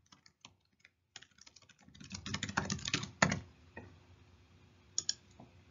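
Bursts of keystrokes on a computer keyboard as a page name is typed, starting sparse, then a dense flurry of clicks in the middle, ending with a few isolated taps; close and fairly quiet with no talking.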